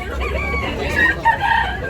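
A rooster crows amid a busy outdoor market backdrop in Tabunok, Talisay, Cebu, its call rising over steady low rumble and scattered background noise.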